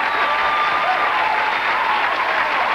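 A stadium crowd at the 1984 Los Angeles Olympic Games roars and applauds after Carl Lewis's long jump, a dense, sustained wash of cheering and clapping at steady loudness.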